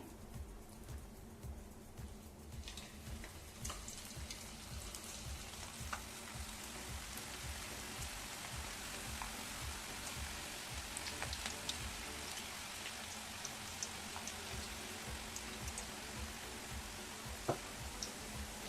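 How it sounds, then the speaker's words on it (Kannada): Onion pakoda fritters frying in hot oil, a steady dense crackling sizzle with scattered sharper pops running throughout, fairly even in level and close by, with no talking. "ಇವಾಗ ಮತ್ತೆ ಇನ್ನೊಂದ್ಸಲ ಎಣ್ಣೆಗೆ ಹಾಕೋತಾ ಇದ್ದೀನಿ."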